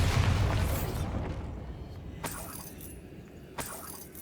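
A Bombarda blasting spell explodes in the video game Hogwarts Legacy, a loud burst that decays over about a second, followed by two short, sharp pops.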